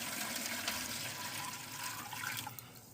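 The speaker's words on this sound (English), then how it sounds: "Throw some water in there." Water splashes and gushes steadily as it is poured from a small homemade bucket into the water pan of a small London Sunshine Kamado Jr grill. It is fairly quiet and continuous, tapering slightly at the end.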